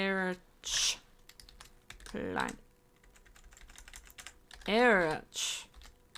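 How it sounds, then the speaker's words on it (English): Soft clicking of fingers typing on a computer keyboard, faint and intermittent between short bursts of a nearby voice talking. "Sorry, typing, can't speak and type at the same time."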